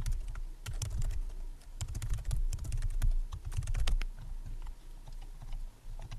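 Fast, steady clicking of a computer keyboard as a name is typed, close and clear in a quiet room with short pauses between bursts of keystrokes.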